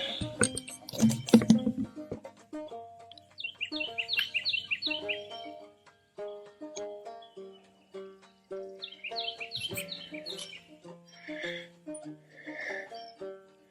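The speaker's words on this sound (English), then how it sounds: "Birds are singing." Songbirds trill and chirp along a lake path, with repeated clear phrases from a few nearby birds and brief pauses between bursts, plus a muffled rustle near the start.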